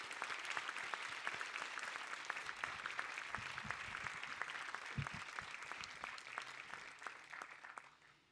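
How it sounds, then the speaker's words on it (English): An audience at a 70th anniversary celebration applauds honorees with sustained, dense clapping from a sizeable crowd, continuing evenly before tapering off at the end. "please join me in one more well-deserved round of applause for all of our extraordinary 70th anniversary honorees"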